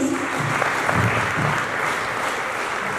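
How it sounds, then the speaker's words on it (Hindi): Audience applause at a garlanding ceremony honouring a guest at an animal husbandry launch event, a steady wash of clapping that holds for the full three seconds, fairly even in level. "तो तालियां बजाई जाए प्लीज।"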